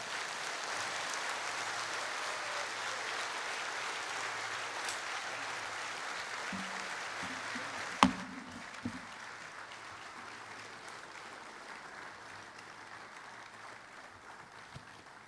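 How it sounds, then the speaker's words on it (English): Audience at a speech applauding as Guyana's President Irfaan Ali comes to the podium, a steady wash of hand claps heard from a distance that softens near the end, broken once by a sharp knock. "I invite you to stand in applause"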